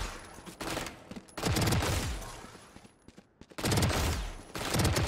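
Stinger submachine gun in VALORANT firing at close range, two long rapid-fire bursts of loud, tightly spaced shots with a brief lull and a few single shots between them.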